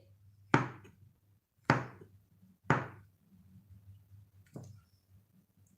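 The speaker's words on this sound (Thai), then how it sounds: "แล้วก็หั่นเห็ดเป็นแบบนี้นะคะ หั่นใหญ่ๆ ยาวๆ แบบนี้เลย" Mushrooms chopped with a knife, four distinct close thunks spaced about a second apart over a faint low hum.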